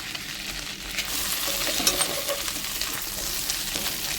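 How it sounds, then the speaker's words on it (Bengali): Dried chilli, bay leaf and cumin seeds fry in hot oil for a Bengali prawn and Malabar spinach dish, a steady close sizzle with faint crackles and light stirring throughout, no talk. "এই তেলের মধ্যে আমি ফোড়ন দিয়ে দেব। শুকনো লঙ্কা, তেজপাতা এবং অল্প আমি জিরে ফোড়ন দেব।"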